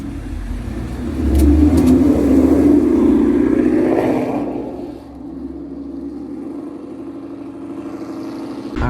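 A drag-pack car engine revs up and accelerates away, a loud rising roar that swells over a few seconds and then settles into a steady lower drone as it pulls off.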